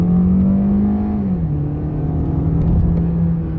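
A Hyundai Elantra's normally aspirated 2-liter four-cylinder engine roars under acceleration, a loud, steady drone that dips slightly in pitch midway as it pulls, heard close from inside the car.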